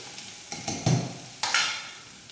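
Lentils fry and sizzle loudly in a pan while okra is cooked, with a few stirring scrapes and rising bursts of crackle. No one speaks.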